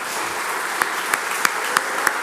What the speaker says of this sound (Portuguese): Vamos dar uma salva de palmas, irmãos.